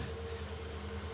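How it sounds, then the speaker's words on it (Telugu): A passing train rumbles steadily beside a forest trail near Dudhsagar, a lone locomotive running a trial with a constant low engine drone and faint metallic hum, continuous and moderately close. "పక్కల ఒక ట్రైన్ వస్తుంది."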